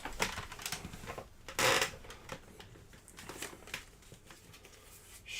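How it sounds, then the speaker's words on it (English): A deck of attack cards for the Stars of Akarios tabletop game is shuffled up close, giving a run of quick papery riffles and flicks with one louder burst near the middle, and no talking. "Shuffle up their attack deck,"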